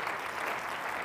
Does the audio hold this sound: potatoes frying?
no